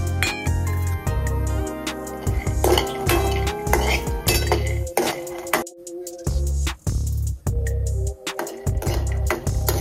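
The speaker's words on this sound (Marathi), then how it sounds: "तर एकीकडे शेंगदाणे भाजून घेणार आहे।" Peanuts dry-roasting in a metal pan, stirred with a spoon that clanks and scrapes against the pan in a continuous loud, close rattle, with brief gaps and some talking.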